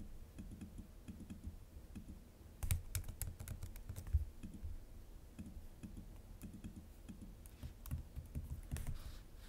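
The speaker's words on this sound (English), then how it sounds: "I'm going to type in an arbitrary password." Fingers type fast on a computer keyboard, producing steady, soft close clicks with a few louder clustered keystrokes partway through and a faint low background hum.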